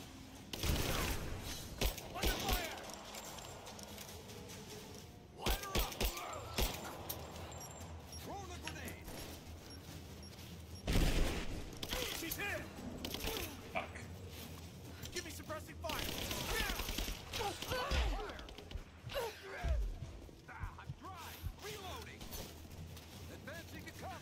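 Gunfire in the video game Rise of the Tomb Raider, with repeated sharp shots and bursts scattered across a long stretch of combat, heard under ongoing talk.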